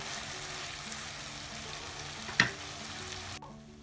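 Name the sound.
beef tripe frying and being stirred with Kashmiri chili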